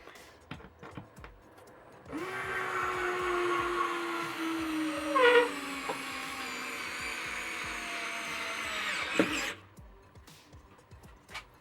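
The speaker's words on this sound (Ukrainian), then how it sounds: "Давайте подивимося, що вона ще ще закрутить" A Tekhmann TCS-3.61500 cordless screwdriver drives a long screw, its motor whirring steadily for about seven seconds with a slight strain partway through, then stopping abruptly; surrounded by quiet room noise and no talk.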